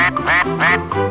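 A person's voice imitates a duck, giving a few loud nasal quacks in quick succession, close up.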